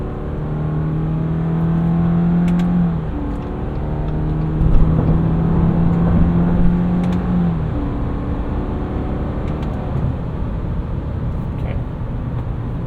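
A 2023 Subaru Forester Wilderness boxer engine pulls steadily from inside the cabin, its drone rising in pitch, then dropping at each paddle-shifted gear change before climbing again, over continuous road noise.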